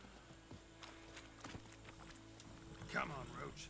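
Hooves of Roach, the horse in the video game Witcher 3, clip-clop in a faint, irregular rhythm beneath a low background drone, with a soft whinny-like sound near the end.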